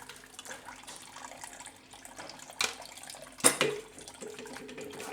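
Blended mixed vegetable juice strains through a kitchen strainer, a steady soft liquid trickle and splash broken by a couple of sharp clinks partway through.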